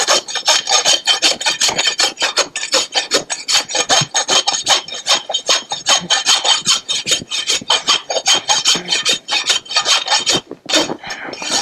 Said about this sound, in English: just rasp the clinch off itself